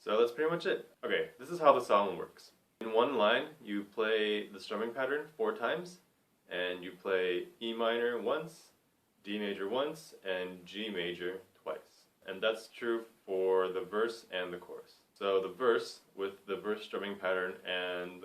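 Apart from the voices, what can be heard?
No distinct noise like a dog, phone or traffic.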